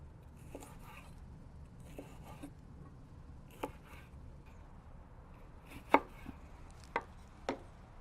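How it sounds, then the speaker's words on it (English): A knife slices bell peppers into thin strips on a cutting board. A handful of separate, sharp cuts land at uneven intervals over quiet room noise, close but soft. "I'm going to go ahead and cut my bell peppers at this time."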